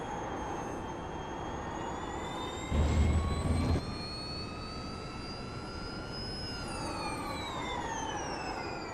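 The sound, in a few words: Porsche Mission R engine whine in iRacing video game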